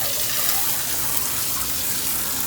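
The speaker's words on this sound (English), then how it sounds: "Little hot water cleanup." Hot water pours steadily from a tap in a continuous, close gushing hiss, even in level throughout with no voices.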